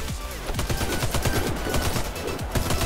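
Automatic rifle fire from a Galil AR in the online shooter Warface, loud close rapid bursts of shots running almost continuously, with a player's voice faintly underneath.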